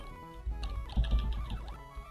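Clattering keystrokes on a malfunctioning computer keyboard, a close, uneven run of taps and clicks with a busier burst in the middle, no voices.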